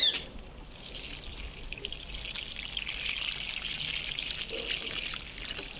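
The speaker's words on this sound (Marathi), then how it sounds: "वरून काय करायचं, पाणी टाकायचं." Water is poured from above onto a freshly planted seedling in a grow bag, making a steady, soft trickle and splash that runs for several seconds with no voices.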